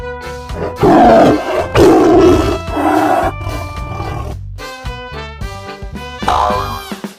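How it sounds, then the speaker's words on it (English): A tiger roars loudly and close in several long, rough growling bursts, followed by a few shorter rumbling calls, with no talk over it. "Tiger."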